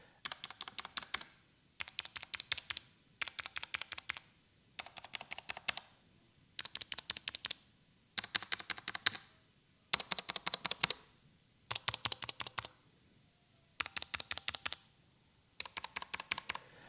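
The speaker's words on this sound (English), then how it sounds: "the buttons are noticeably louder than those on the other controllers as well" Arcade-style buttons on a Haute42 hitbox controller clatter in quick bursts of rapid clicks, about ten separate flurries separated by brief pauses, fairly close and crisp with no talking.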